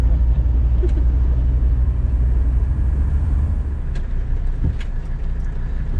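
A Mercedes 300D diesel car accelerates with a steady low engine rumble and road noise heard from inside, with a few faint clicks and no talking.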